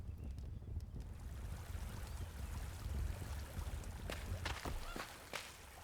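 Water in the Enshrouded survival game flows in a steady broadband rush, with a few sharper splashing ticks near the end and no speech over it.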